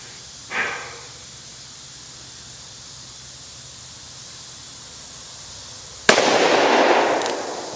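Two heavy blasts come from a Smith & Wesson 629-4 .44 Magnum revolver. A modest shot is followed several seconds later by a much louder one that leaves a lingering, hissing roar.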